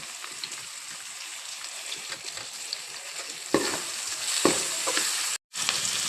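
Coconut, tomato and spices frying in a pan for meal maker rice, a soft steady sizzle with scraping stirs that grow louder toward the end, then a brief cut to silence.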